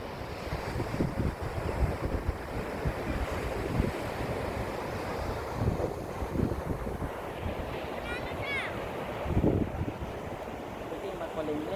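Sea waves wash onto a shore under an overcast sky while wind buffets the microphone in a steady roar. The surf surges occasionally, and faint voices sit in the background.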